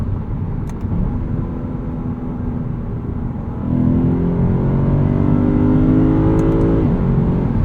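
A 2023 Lexus IS 500 F Sport Performance V8 drones steadily while driving, then rises into a louder, climbing engine note as it accelerates through the gears, continuous and close with no talking.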